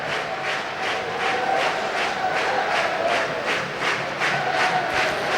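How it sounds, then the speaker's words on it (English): Sheffield Steelers ice hockey fans clap in steady rhythmic unison across an arena, a regular beat of massed claps over a continuous crowd roar. "the Steelers fans trying to clap the visitors home with this one"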